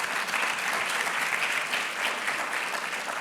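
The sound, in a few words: applause for award winner at ceremony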